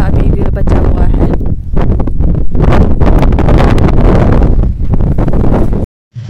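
Cold wind gusting across a rooftop in Ladakh, a loud, continuous rushing roar buffeting the microphone for several seconds before cutting out briefly near the end.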